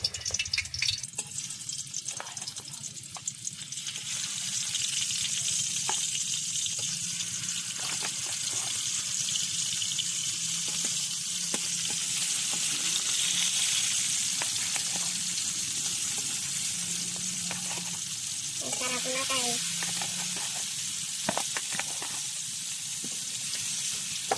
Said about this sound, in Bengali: তেল গরম হয়ে গেছে, এই শোল মাছ দিয়ে দিচ্ছি।